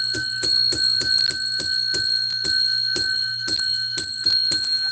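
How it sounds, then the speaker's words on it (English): A bell is struck again and again in an irregular run of sharp metallic rings, close and loud, each strike leaving a steady high ringing tone under the next, with no talking. "I owe you 12 rings of the bell."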